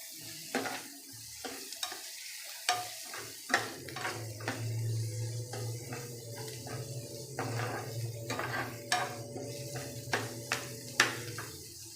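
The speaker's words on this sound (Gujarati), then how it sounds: "હવે મસાલાને શેકી લઈશું આપણે થોડું, લસણ કાચું ના લાગે" Garlic, ginger and red chili paste sautéing in a pan for sev tameta shak, a soft steady sizzle under repeated clinks and scrapes of a spoon stirring against the metal.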